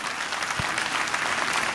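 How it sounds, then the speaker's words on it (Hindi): Short, fairly faint audience applause greets a guest at a Brahma Kumaris dedication ceremony in Ambala City, a brief patter of hands with one low thump partway through. "जोरदार तालियों से उनका स्वागत करो।"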